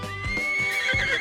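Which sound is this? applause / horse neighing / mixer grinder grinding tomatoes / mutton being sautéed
horse neighing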